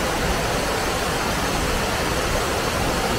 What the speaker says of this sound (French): Donc voilà la cascade du Saugran, dans les gorges du Caïla, le nom du ruisseau.